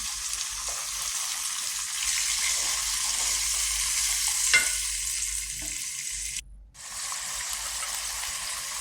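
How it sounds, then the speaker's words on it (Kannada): Steady crackling sizzle of mint paste frying in hot oil tempering, close and continuous, with a brief stir and a short pause near the end. "ಈ ಒಗ್ಗರಣೆಯಲ್ಲಿ ಹಾಕಿ ಚೆನ್ನಾಗಿ ಫ್ರೈ ಮಾಡಬೇಕು"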